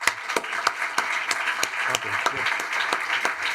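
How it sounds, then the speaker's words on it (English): Audience applause after a tech entrepreneurship panel, a dense steady patter of many hands at moderate level with a few sharper claps standing out and a brief spoken remark over it. "a big clap for them"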